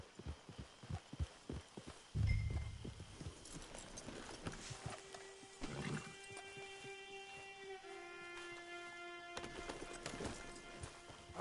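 Horse hooves clip-clop in the Red Dead Redemption 2 video game, a quick rhythmic trotting at the start, followed by a sustained tonal musical score.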